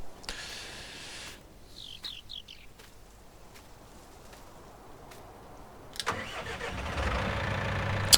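A John Deere 6135M tractor in Farming Simulator 2019 starts up with a short engine crank, runs quietly for a few seconds, then rises into a louder steady engine rumble. A few faint bird chirps come through early on.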